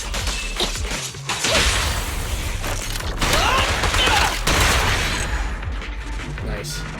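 Rapid bursts of gunfire and whooshing action effects from a Zenless Zone Zero battle, loud and dense throughout with brief lulls, mixed with game music and clashing impacts.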